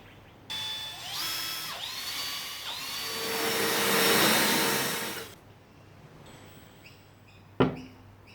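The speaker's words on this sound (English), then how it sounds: "Screwdriver just to balance everything out." A cordless screwdriver drives screws into a wooden workbench base, giving several close whirring bursts that rise and fall in pitch, followed by a sharp clack near the end.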